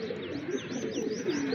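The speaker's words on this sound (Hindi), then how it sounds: "नौजवान कबूतर हैं दोस्तों तमाम के तमाम।" Young racing pigeons coo in a steady, soft chorus, close by, with overlapping low burbling calls and faint higher chirps running continuously throughout.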